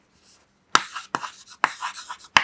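A pen scratches across paper while coordinates are written out, in several quick, close bursts of dry strokes separated by short pauses, with no talk.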